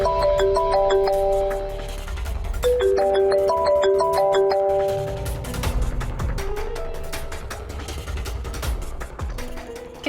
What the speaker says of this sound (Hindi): किसका फोन आ रहा है सुबह सुबह?